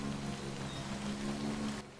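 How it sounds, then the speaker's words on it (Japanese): Rain falling in the video game Death Stranding, a steady, soft hiss of drops on surfaces with a low hum beneath. It plays alone and fairly quietly, easing off near the end. "こんだけ雨降ってたらな"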